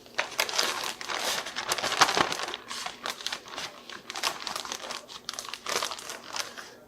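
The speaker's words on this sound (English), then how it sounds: "I'm going to put it in a Ziploc bag." A plastic Ziploc bag being handled close up gives a crisp, continuous crinkling and rustling, loud in irregular bursts for several seconds, with no talking.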